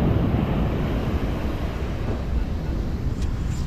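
Waves wash onto a beach during metal detecting, a loud, dense, continuous roar of surf with gusty wind noise against the microphone.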